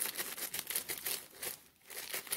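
Rapid crinkling and snipping of plastic packaging, a dense run of crackly cuts with a brief pause before it resumes, close up.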